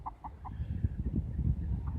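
A black spangle hen clucks in a few short, close calls early on, over a steady low background of other farmyard noise and rustling.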